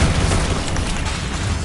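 A Confringo blasting spell explodes in the Hogwarts Legacy video game, a loud continuous booming rumble that fills the short moment with no pause.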